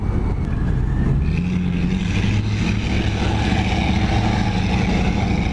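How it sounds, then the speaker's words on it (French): A car engine rumbles loudly nearby, a steady low drone with slight revving, filling the whole moment. "on va pas entendre le son de ma moto là, avec le bruit de sa bagnole"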